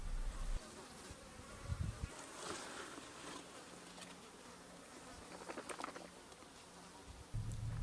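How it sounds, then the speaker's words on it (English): Bees buzz faintly and steadily over wet sand at a shallow desert seep, with a dull rustle starting and ending the stretch. "Butterflies and bees are great indicators that water is nearby."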